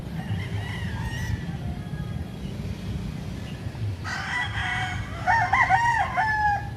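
Chickens on a farm in the Philippines cluck and call at a moderate distance, followed by a rooster crowing near the end, heard over a steady low outdoor rumble without any talk.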